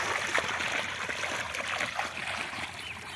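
Water gushes steadily from an irrigation pump driven by a brush cutter machine onto a field, a constant hissing splash without pauses.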